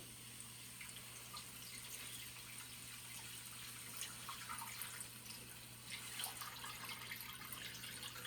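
About three and a half cups of liquid pour into a pot in a home kitchen, a quiet, steady trickling stream that runs for several seconds without talk.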